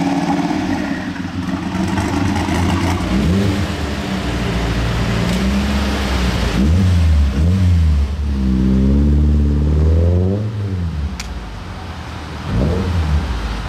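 A classic car engine revs loudly at the Rétromobile 2023 collector car show. Several rising and falling revs swell close by over a constant background rumble.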